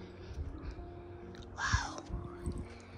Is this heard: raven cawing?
yes